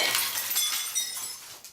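Objects such as TVs, keyboards and vases smashed with a baseball bat, golf club or hammer at a rage room in Tempe, with bright glass shattering and clinking that runs continuously and close up, with no voices.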